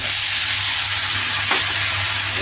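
Chopped onion and green chilli fry loudly in a pan, a dense continuous sizzle close up, with one brief stir or scrape midway and no voices.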